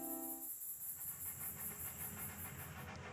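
Steam engine chuffing along a small highland railway line at night: a steady rhythmic puffing under a continuous hiss, with a brief whistle-like tone at the start, fairly close and even in level.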